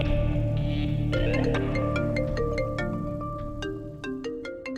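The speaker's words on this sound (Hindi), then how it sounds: "संजना मैडम का फोन" A mobile phone ringtone playing a bright melodic electronic tune with repeated plucked notes over a sustained low background, continuous and fairly loud, with no talking.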